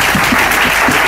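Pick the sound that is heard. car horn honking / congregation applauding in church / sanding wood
congregation applauding in church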